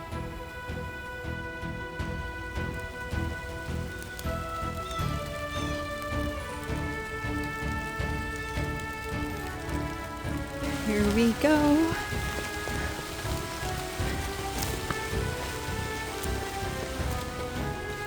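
Rain patters steadily on a wooded trail along the Nepisiquit River, a continuous close hiss that stays level for the whole stretch, with someone speaking briefly over it.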